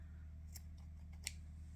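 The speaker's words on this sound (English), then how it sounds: "you're just simply going to cut it off, leave a bit of a tail." Two quiet snips of scissors cutting crochet yarn, spaced under a second apart, over a low steady hum in a calm room.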